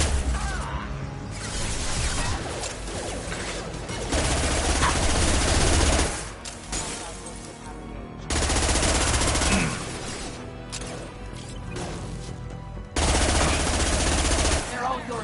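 Loud gunfire in the video game Mass Effect: Legendary Edition, with sustained automatic bursts and rapid fusillades separated by short pauses and ringing impacts.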